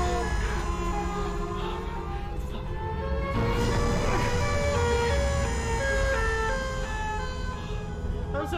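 A warbling, wailing siren-like tone from the Siren Head video game monster drifts up and down over a steady low rumble, continuous and eerie, with faint background activity.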